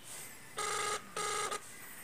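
A phone call rings through the loudspeaker of a Cherry Mobile C7i, sounding as two bright electronic ring bursts followed by a short blip, moderately close with faint background hiss and no talking.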